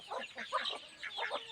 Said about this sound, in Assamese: এই চৰাইকেইটা এয়া মোৰ চৰাই এই হাঁহ তিনিটা